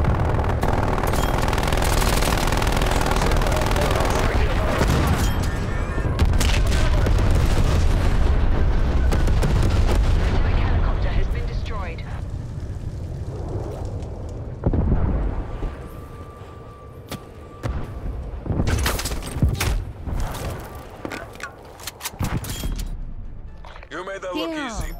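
Video game gunfire with shotguns fires in dense, loud bursts layered with explosions and booms, then thins into scattered shots as players talk over the action.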